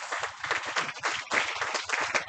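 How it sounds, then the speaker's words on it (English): Applause from a conference audience at GIMPA in Accra, a short burst of dense clapping from a crowd of listeners, steady and fairly close throughout. "let us welcome all three of them with a round of applause"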